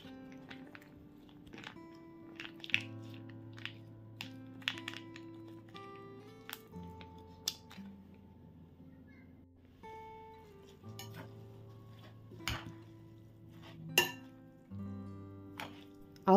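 Funchoza glass-noodle salad being stirred in a bowl, with scattered light clinks and taps of utensil against dish over a soft sustained musical background, no talking.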